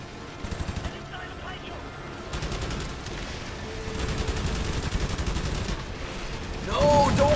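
Aircraft guns fire in the WWII flight combat game Wings of Prey, with repeated rapid bursts of gunfire over a steady engine-like drone. The bursts grow denser and louder toward the end.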